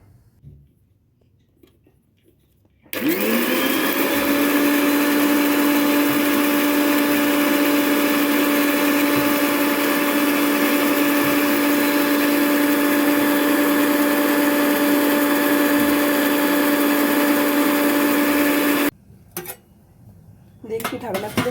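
Electric grinder whirring steadily as it grinds mustard and poppy seed into paste, starting abruptly and running loud and continuous with a strong whine for about sixteen seconds before cutting off.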